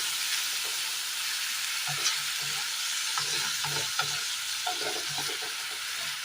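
Oil sizzles steadily in a pan of Kerala curry while a utensil stirs and scrapes, giving soft irregular knocks over the frying hiss; no voices.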